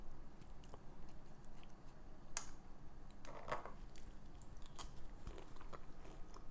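Someone bites into and chews crunchy fried bang bang shrimp coated in sweet chili sauce, giving a few crisp crunches and soft wet chewing up close over low background hiss.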